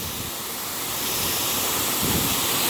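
A pressure washer nozzle rinses house siding during a downstream soft-wash job: a steady, close, broadband spray hiss that swells slightly toward the end, with no talking.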